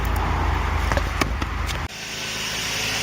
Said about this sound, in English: There it is, guys. Running on all 6 cylinders again.